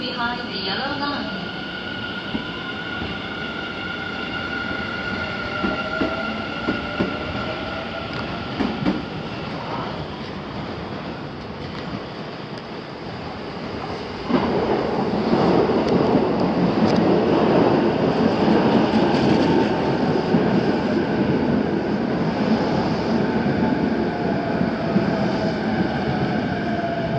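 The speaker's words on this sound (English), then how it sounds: "The local train will arrive shortly on track 2." A JR East E233 series 6000 local train on the Yokohama Line rolls into Nagatsuta station with a rising rumble and rail clatter that grows louder, while a station announcement plays over it.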